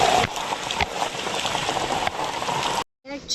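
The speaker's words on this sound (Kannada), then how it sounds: "ಬಟ್ ಮಳೆ ಮಾತ್ರ ಸಖತ್ ಬರಾಕತೈತಿ" Heavy rain pours steadily at a beach, a dense continuous hiss with a few louder gusts, cutting out abruptly near the end before a brief softer return.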